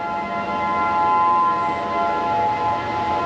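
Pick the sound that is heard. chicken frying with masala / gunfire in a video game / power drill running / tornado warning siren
tornado warning siren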